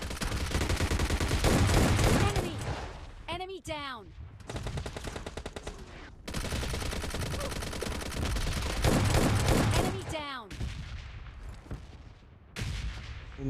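Gunfire sprayed at enemy players in the mobile shooter PUBG Mobile Lite: loud, dense bursts of rapid automatic shots in long sustained strings, broken by short gaps and a few whooshing effects.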